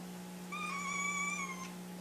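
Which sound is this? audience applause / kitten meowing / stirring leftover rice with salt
kitten meowing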